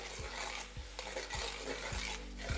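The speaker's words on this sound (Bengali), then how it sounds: "তারপর ফ্লেমটাকে হাই করে পেঁয়াজগুলোকে ভালো করে একটু" Thinly sliced onions fry in oil and ghee over a high flame, a steady close sizzle broken by a few soft stirring scrapes of a spoon against the pan, with no talking.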